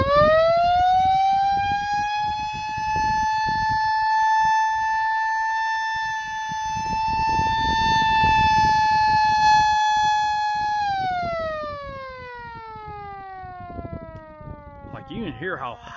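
A Mini 2001 model siren driven by an over-pitched motor wails steadily at a high pitch, then winds down and falls away, with clattering handling noises underneath and a voice talking faintly at times.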